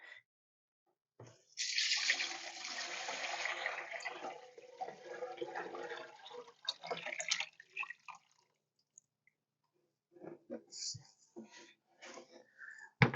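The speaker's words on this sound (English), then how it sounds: "I'm going to dump the turkey broth back in." Turkey broth glugs into a pot on the stove for a turkey stew, a loud continuous splashing pour lasting several seconds, then a few smaller drips and clinks as it tapers off.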